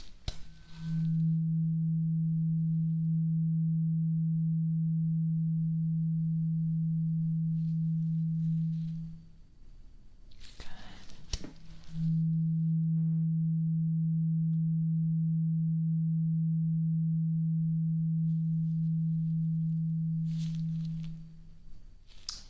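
A steady pure hearing-test tone plays in a quiet ear-exam setting, sounding twice for about eight to nine seconds each time with a short pause between, with faint rustles near the gaps.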